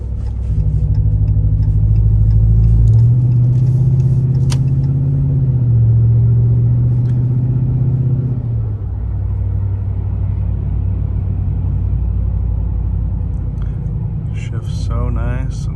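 A truck fitted with a Rough Country exhaust drives on a city road, its low engine rumble steady and loud, shifting tone partway through and easing into a quieter drone.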